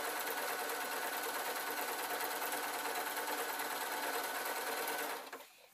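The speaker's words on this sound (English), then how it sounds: "Now, sewing this PVC, easy this way round, it's fine." A sewing machine stitches PVC outer lining for a glasses case in one fast, continuous loud whir that runs steadily for about five seconds, then stops abruptly.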